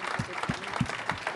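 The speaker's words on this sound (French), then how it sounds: "je vous remercie d'applaudir Airleum" Applause at a startup awards ceremony in Marseille, a thin spread of hands clapping with a few louder, low thumps spaced through the short stretch.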